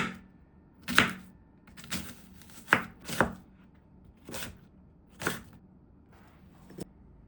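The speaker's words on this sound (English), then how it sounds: "Slice onion 1/2 thinly for fajita, mince 1/8 onion for salsa." An onion is sliced thinly and minced with a knife on a cutting board in a quiet kitchen, giving separate crisp chopping taps with short pauses between them.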